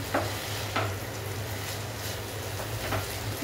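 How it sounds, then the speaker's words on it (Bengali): Chicken keema pulao stirred in a one-pot meal, a few rhythmic scraping sweeps of a spoon through the mixture over a soft ongoing sizzle, close and without voices. "এবার আমি মিশিয়ে দিচ্ছি।"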